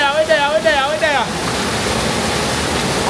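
Cane River Falls in Jamaica roars as a steady, loud broadband rush of falling water; voices talk over it for the first second or so, then the waterfall continues alone.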